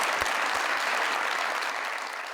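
Studio audience applauding the winner of a beauty-cream gift hamper on a television talk show, a dense, loud burst of many hands clapping steadily for a couple of seconds, with no talk over it.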